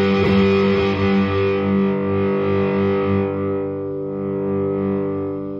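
Harley Benton ST20 electric guitar with EMG pickups and mid boost switched on, a single distorted chord struck hard and left to ring, sustaining loudly then slowly fading, heard alone.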